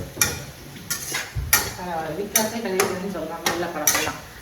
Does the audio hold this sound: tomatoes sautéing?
yes